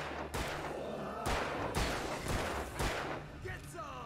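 Repeated gunshots from the Alan Wake video game ring out in sharp, loud bursts roughly every half second, forming a steady volley of fire against a constant rumbling background.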